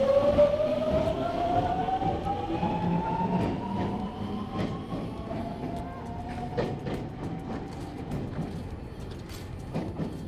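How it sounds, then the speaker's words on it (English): A Japanese Airport Express train pulling away with a rising electric whine, steady rumble and clicking wheels over the rails, loud and close throughout. "Yung na umalis na train, yan yung regular Airport Express train."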